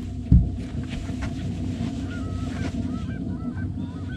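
Geese cackle and honk near a river in winter perch-fishing country, a scattered chorus of calls carrying over steady wind and background rumble at moderate distance.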